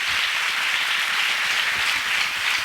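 A church congregation at a prayer festival applauding together, a dense, steady wash of many hands clapping that holds at an even level for the whole stretch with no voices standing out.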